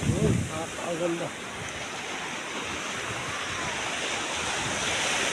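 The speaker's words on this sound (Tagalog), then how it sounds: "lumalakas yata ang alon" Ocean surf at the coast of Infanta, Quezon, a steady broad roar of waves building slightly in strength, with wind noise on the microphone and a brief voice at the start.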